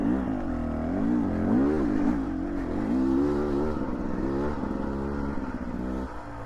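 A 2024 Beta 300RR two-stroke dirt bike engine revs up and down continuously while being ridden, loud and close with rising and falling pitch sweeps and no talking.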